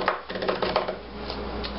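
A knife chopping fresh garlic on a cutting board, a quick run of light, close, rapid taps with no talking.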